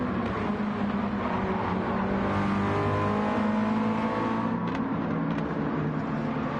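A Mazda Miata race car engine drones and revs continuously in a racing video game at the Nürburgring, with shifting gear tones and faint tire noise.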